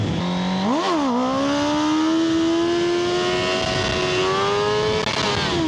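A motorcycle engine revs hard during a wheelie, loud and close, its pitch jumping briefly early on and then climbing steadily in one sustained pull with no voices.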